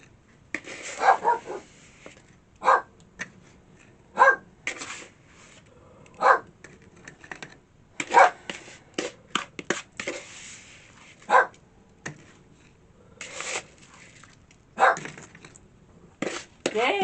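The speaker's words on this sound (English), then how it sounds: "One of my dogs hasn't been right. That's the one you can hear shouting." A household dog that has been unwell barks repeatedly in sharp, separate bursts at irregular intervals through the whole stretch, fairly close and loud in a quiet indoor room.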